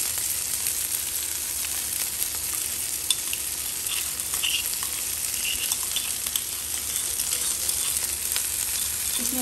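Garlic frying in a home kitchen pan with chilies already added, giving a steady, even sizzle with light scraping from stirring throughout, fairly close and with no talking.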